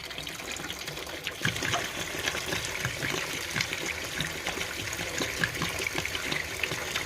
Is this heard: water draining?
yes